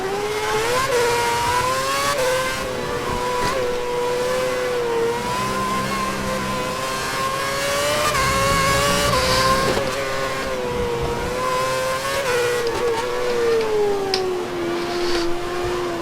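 Formula 1 race cars in the F1 2011 game at the Catalunya circuit scream steadily at high revs, the engine pitch rising and falling through gear changes and corners, loud and continuous throughout.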